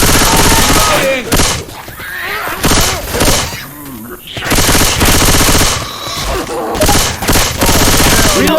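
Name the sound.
gunfire in the video game Left 4 Dead 2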